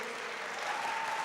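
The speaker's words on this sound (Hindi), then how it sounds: "मैं चाहता हूं एक दफ़ा ज़ोरदार तालियां बजाएं" Steady applause from a seated audience at a gathering, dense and continuous for the whole stretch, moderately distant, with no voices over it.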